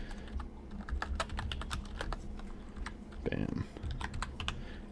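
Rapid clicking on a computer keyboard, typed while writing code, runs close and steady in quick irregular bursts; one short spoken word cuts in briefly.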